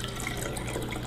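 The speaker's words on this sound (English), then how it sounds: "And then we just pour it into the bottles." Homemade ginger beer pours steadily from a pitcher into bottles, a continuous close splashing and gurgling stream of liquid with no talk over it.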